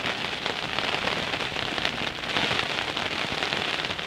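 Steady rain falling outdoors at a fishing spot, a dense even patter on surfaces that stays close and loud throughout, with no voices.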